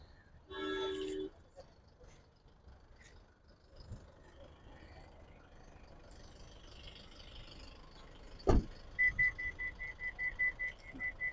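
Warning chime of a 2017 Isuzu MU-X diesel SUV after the key is removed, a short tone burst early on and later a series of quick regular beeps, faint and close, amid quiet surroundings.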